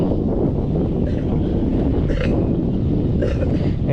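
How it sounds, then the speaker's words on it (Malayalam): Strong wind roars steadily against the microphone, a loud continuous low rumble with gusty buffeting throughout. "എൻ്റെ പൊന്നോ ഏതാ കാറ്റ്"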